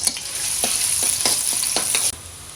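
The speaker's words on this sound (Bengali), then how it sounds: "তেলটা একটু হালকা গরম হয়েছে হ্যাঁ ইয়ে দিয়ে দিলাম পেঁয়াজ" Onions sizzling in lightly heated oil while cooking goat head curry, a loud continuous hiss with rhythmic stirring scrapes that stops abruptly near the end.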